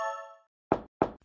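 Three hollow knocks on a cartoon door follow a short chiming tone, each rap loud and close, with the last two coming in quick succession.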